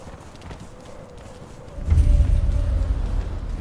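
Horse hooves in the video game Conan Exiles, a dull rhythmic clopping that grows louder and heavier partway through as the horse moves, over a low rumbling background.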